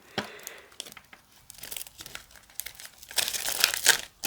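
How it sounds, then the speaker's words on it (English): Tarot cards being shuffled and riffled by hand, a series of quick papery flicks and rustles building to a denser burst near the end. "I'm going to shuffle again"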